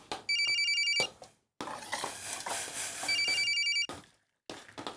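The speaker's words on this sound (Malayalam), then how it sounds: "ഫോൺ അടിക്കണടി." A telephone rings in a home, two bursts of an electronic ring with short pauses between them, clear and fairly close, with no talk.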